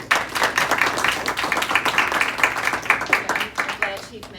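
Steady applause from a crowd, dense overlapping claps continuing throughout before tapering off near the end.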